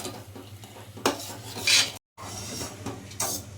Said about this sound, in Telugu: దీన్ని ఉండలు లేకుండా బాగా కలిపేసుకోవాలండి.